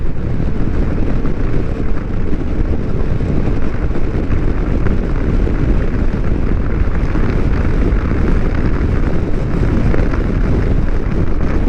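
A Kawasaki Versys 650 ridden at about 50 mph in fifth gear near 3,500 to 4,000 rpm, its engine drone buried in a loud, constant roar of wind buffeting the microphone.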